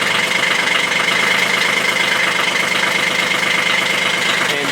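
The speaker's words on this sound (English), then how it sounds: "So we'll throttle her up a little bit." A motor grader's diesel engine runs steadily and loudly up close, a continuous heavy rumble with a rough knocking texture as the throttle is raised, filling the whole stretch with no talk over it.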